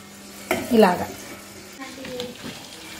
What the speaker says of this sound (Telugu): కాగిన ఆయిల్లో వేసి సన్న మంట మీద వేయించుకోవాలి.